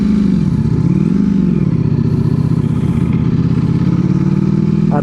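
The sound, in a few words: 2023 Ducati Panigale V4 SP2 motorcycle engine while riding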